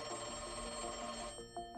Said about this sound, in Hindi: खुफिया विभाग के दफ्तरों के फोन घनघनाने लगे।